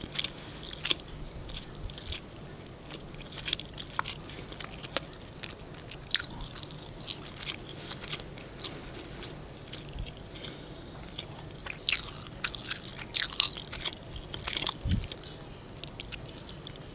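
Close, crunchy chewing and biting, with repeated moist squishes and crackles in an irregular rhythm over a quiet background; no one speaks.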